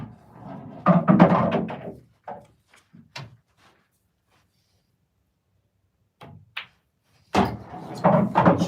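Pool balls struck in an English pool and 8-ball game, played with topspin: a few sharp clacks and thunks of cue and balls, separated by a near-silent pause and followed by more ball contacts near the end.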